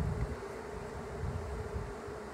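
Honey bees from a full colony of six or seven frames buzz around a trap-out hive, a steady dense low drone with no breaks and nobody talking.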